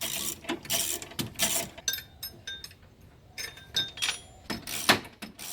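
A ratchet works a bolt loose between the alternator and AC compressor of a car engine, giving bursts of rapid metallic clicking close up, with short pauses and clinks between strokes.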